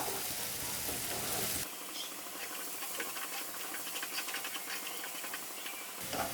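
Onions sautéing in a pan for an egg curry masala, a steady close sizzle and hiss with fine crackling patter running throughout, no voices.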